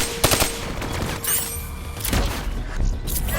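Gunfire from a hijacked turret machine gun in Call of Duty Black Ops III, with rapid bursts, thuds and booms of battle sounding close and loud across the whole scene.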